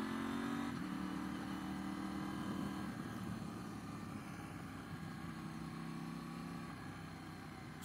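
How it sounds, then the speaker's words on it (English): Steady low rumble of a KTM Duke 790 motorcycle engine and exhaust, fairly faint, with a slight rise at the start then a constant drone and wind noise. "I love the sound of this exhaust, amazing"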